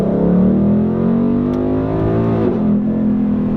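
A 2018 Ford Mustang GT with a 10-speed automatic, accelerating in sport mode, its engine tone climbing steadily in pitch, loud and close, with a brief shift near the end and no talk.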